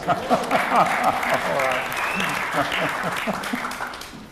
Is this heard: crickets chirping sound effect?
no